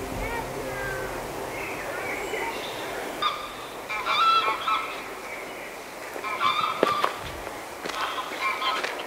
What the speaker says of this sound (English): There are geese honking as well